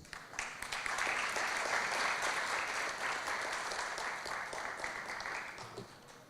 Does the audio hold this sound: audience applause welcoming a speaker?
yes